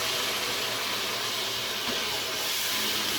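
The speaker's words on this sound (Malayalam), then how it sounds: "വഴട്ടിയതിന് ശേഷം നമ്മളത് വെള്ളം ഒഴിച്ചെടുക്കുന്നുണ്ട്." Water hits a hot pan of sautéed curry leaves, producing a loud, steady, broadband hiss of steam that stays constant without a break.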